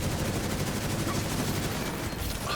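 Sustained rapid automatic fire from an RBK rifle in a video game, loud and continuous bursts with dense crackling reports filling the whole stretch without pause.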